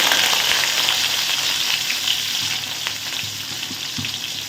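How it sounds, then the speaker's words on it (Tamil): Onion, green chili and garlic frying in a pan for a drumstick and potato kara kuzhambu, a loud continuous close sizzle with faint stirring scrapes underneath. "வெங்காயம் பச்சை மிளகாய் பூண்டு போட்டு நல்லா வளர்ந்துட்டோம்"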